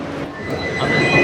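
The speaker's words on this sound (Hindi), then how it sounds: "मेट्रो आ गई है फिलहाल, तो उसका एक सीन देख लो" A Bangkok metro train pulls into a station with a loud, close, steady rolling rumble. A rising wheel squeal joins it as the train slows.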